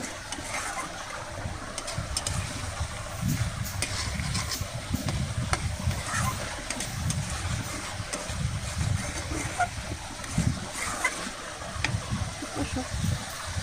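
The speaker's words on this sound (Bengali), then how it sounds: "এই যে বাড়ি মাছের তরকারিটা কষাই দিছি, একটু ভালো করে কষাই নিই" Fish curry in a pan frying over heat while being stirred, a steady soft sizzle with irregular scraping stirs, close and faint, as someone talks over it.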